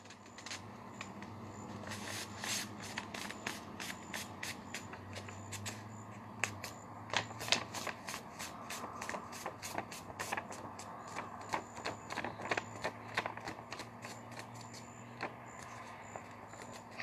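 Paper creased and folded point to point the opposite way, giving a quiet run of crisp crackles and short sharp rustles spread through the stretch, with no talking.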